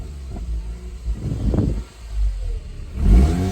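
A Mazda RX-8 rotary engine runs rough and unsteady as it tries to shut down, surging and dipping in uneven revs, close and loud.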